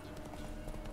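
Horse hooves clip-clopping at a steady riding pace in The Witcher 3, a quick rhythmic series of close, moderately loud hoofbeats with no talking.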